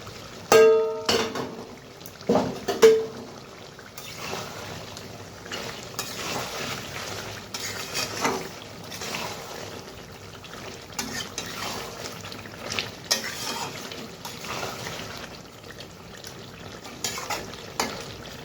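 Pre-fried vegetables stirred and cooking in a pan for chicken makhmali, with intermittent spoon clinks and scrapes against the metal over a soft, low sizzle, close by.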